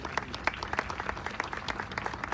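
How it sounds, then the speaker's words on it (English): An audience claps steadily at an outdoor statue unveiling ceremony, a dense patter of many hands that stays fairly even and moderately distant throughout. "Round of applause."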